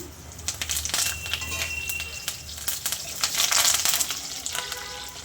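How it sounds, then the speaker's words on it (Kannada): Green chillies and curry leaves drop into hot tempering oil with dal, crackling and sizzling loudly with bright spattering pops and some stirring scrapes, the frying swelling midway. "ಇವಾಗ ಇದಕ್ಕೆ ಮೆಣಸಿನ್ಕಾಯಿನೂ ಕರ್ಬೇವು ಹಾಕೋತೀನಿ"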